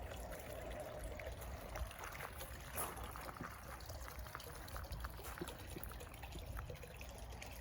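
Water trickles and flows steadily into a stone-walled dipping supply at an old forge cottage garden, a continuous close, low-level burble and splash with no talking.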